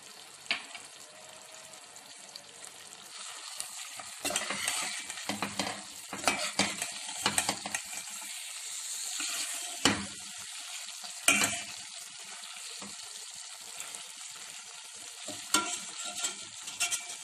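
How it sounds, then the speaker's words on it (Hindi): Kaleji frying in a pan as garam masala and lemon juice are stirred in, with a steady close sizzle broken by repeated scraping and clattering stirs and a few louder knocks. "अब इसमें गरम मसाला पाउडर और लेमन जूस डालकर अच्छे तरीके से मिक्स कर लेते हैं।"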